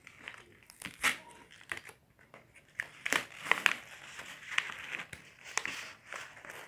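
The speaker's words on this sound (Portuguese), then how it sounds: "Eu vou tirar essa fita, né? Pra não atrapalhar o zíper." Tape being peeled off a homemade toy doll package, giving a run of crinkling, tearing rasps in irregular bursts, close and fairly faint.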